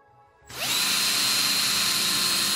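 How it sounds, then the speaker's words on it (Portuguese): Power drill spun against a phone's screen protector: after a brief faint rattle, the motor kicks in and holds a loud, steady high-pitched whine with a grinding edge, close and continuous to the end. "o que acontece quando a gente usa uma parafusadeira aqui, uma furadeira, para tentar riscar a nossa película, a tela do celular aqui"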